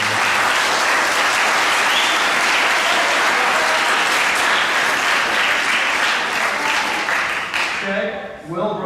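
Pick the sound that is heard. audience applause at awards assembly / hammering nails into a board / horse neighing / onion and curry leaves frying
audience applause at awards assembly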